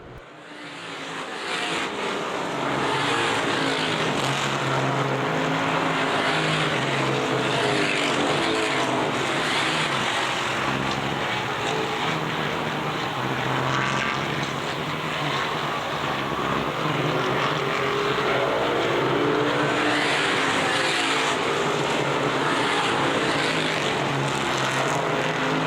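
CRA Street Stock race cars roar steadily around Winchester Speedway during a 40-lap afternoon feature, a loud continuous engine drone from several cars passing close, with no voices over it.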